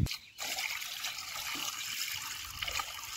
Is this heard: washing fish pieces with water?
yes